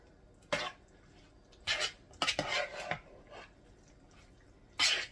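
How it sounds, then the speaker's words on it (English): Ingredients being mixed together in a dish for freezer meals, several distinct scraping clinks of a utensil against the bowl, spaced irregularly and fairly close. "we're going to mix all that together"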